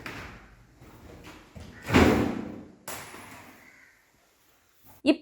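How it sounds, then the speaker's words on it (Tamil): A refrigerator door is lifted off its hinges and set down during gasket repair, giving a loud handling thump near the middle, a later clunk and sharp knocks at the end, with faint background noise throughout. "இப்போ இந்த கதவை கொஞ்சமா தூக்கி தனியா எடுத்துடலாம்."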